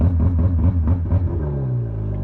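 A 90hp Mercury EFI outboard on a 2012 Lowe FM 165 Pro Series boat revs in neutral, a close, throaty engine rumble that rises in pitch and settles into a steady drone.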